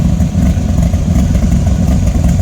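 A classic American car with a 514 cubic inch big block Ford engine and baffled, ceramic coated side pipes idles close by, giving a steady, deep, throbbing rumble with no voices.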